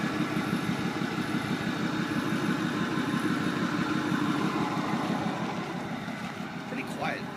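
2008 Ford F250 Lariat with a 6.4 diesel engine idling with a steady, muted throbbing rumble that stays even and fairly quiet throughout, with no talk over it.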